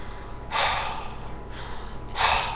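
A person takes deep, forceful breaths alone, two loud rushing exhales or gasps separated by a quieter stretch of steady airflow, close to the microphone.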